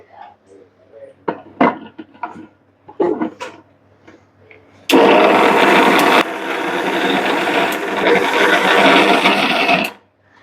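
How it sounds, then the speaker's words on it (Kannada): An electric kitchen mixer grinder grinds roasted coconut masala, starting with a sudden loud whirring roar that runs steadily for about five seconds and then stops. Before it starts, a person talks and there are some small kitchen clatters. "ಮಿಕ್ಸರ್ಗೆ ಹಾಕಿ ರುಬ್ಕೋತ್ಲಾಕತ್ತೀನಿ ರೀ"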